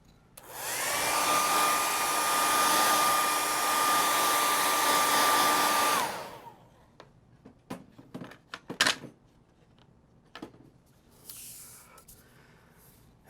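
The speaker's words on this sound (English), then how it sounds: "now I'm going to hit with the blow dryer" A hair dryer runs loudly and steadily for about six seconds over painted PVC pipe, then cuts off, leaving scattered soft handling clicks and rustles.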